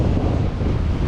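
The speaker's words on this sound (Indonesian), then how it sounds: "Jadi anginnya itu begitu kencang sekali" Strong wind blowing at Ulee Lheue beach in Banda Aceh, a loud, continuous low buffeting roar against the microphone with the sea mixed in, no voices.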